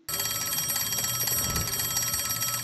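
A telephone bell ringing in a Peaky Blinders scene, a continuous bright metallic trill that starts abruptly and carries on at steady volume, and no voices.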